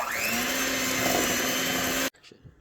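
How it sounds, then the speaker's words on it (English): A hand mixer whirs at a steady high pitch while creaming butter with brown and white sugar for cookie dough, running loud and close for about two seconds before cutting off abruptly. "we're gonna go back to the hand mixer and blend until creamy"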